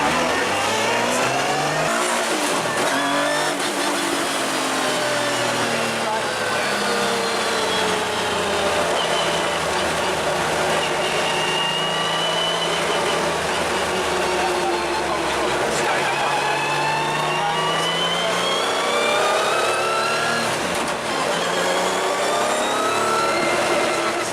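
An MG Metro 6R4 rally car, old and hard-used, drives on public roads. Its engine revs loudly and close, with repeated rising and falling pitch sweeps through the gears, sustained throughout, with voices faintly underneath.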